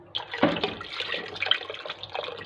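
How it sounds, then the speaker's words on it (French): Boiled water pours into a pot of mloukhiya, a splashing, gurgling stream up close that starts abruptly and runs on for a couple of seconds with uneven bubbling. "je rajoute un peu l'eau bouillie"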